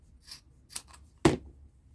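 Scissors snip through fleece fabric while a hair bow is being made, giving three or four short, crisp cuts spaced apart in a quiet room with no talking.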